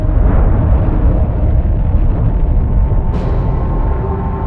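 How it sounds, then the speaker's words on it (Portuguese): Deep, sustained rumbling blast standing in for a gamma-ray burst explosion in a space documentary, a loud continuous low roar with a brief sharp burst near the end. "É uma explosão de raios gama, a maior a sacudir o universo desde o Big Bang."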